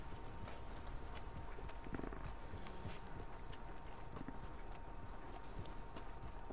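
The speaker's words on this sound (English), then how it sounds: "Remember to rest that horse sometimes." Horse hooves clip-clop at a steady walking pace in the video game Red Dead Redemption 2, soft and moderately close over a constant low ambient bed with a faint tone running throughout.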